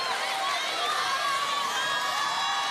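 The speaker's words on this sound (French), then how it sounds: "Profitez de ces applaudissements" A theatre audience at a televised singing performance cheers and claps in a steady, dense roar, with whoops and shouts mixed into the crowd noise.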